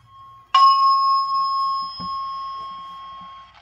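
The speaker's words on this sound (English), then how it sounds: "We are now testing the fire alarm system." A Simplex 4100ES fire alarm system sounds a single sharp electronic chime that rings out and slowly decays over about three seconds, with a soft click partway through.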